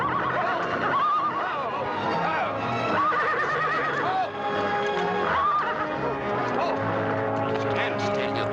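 A cavalry horse neighs in a 1940 Western film scene, shrill whinnies repeating over a busy mix of voices, hoofbeats and music, loud and close with people talking throughout.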